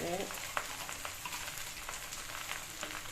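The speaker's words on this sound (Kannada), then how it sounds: "ಅಮ್ಮ ಅವಲಕ್ಕಿ ಮಾಡ್ತಾಯಿದ್ದಾರೆ ಅವಲಕ್ಕಿಗೆ ಒಗ್ಗರಣೆ ಇದ್ದಾರೆ" Tempering crackles in hot oil in a home kitchen, with green chillies and onion going in for avalakki (beaten rice); a steady, fairly faint sizzle with scattered pops runs throughout, and a brief voice is heard at the start.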